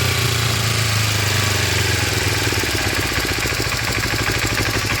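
A 1986 Kawasaki Ninja 250R motorcycle engine idles steadily up close, a loud, even rumble with a slightly uneven throb, no voices.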